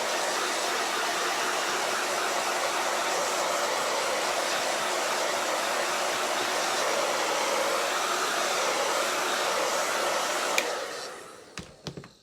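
A hair dryer blows steadily at close range for about ten seconds, clearing loose glitter off a chalk paste craft project, then switches off with a few small clicks and handling sounds.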